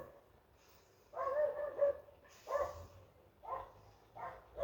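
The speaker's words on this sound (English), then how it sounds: "Dogs barking." Several dog barks from neighbours' dogs come in uneven bursts, fairly faint and distant, with short pauses between them. Nobody speaks.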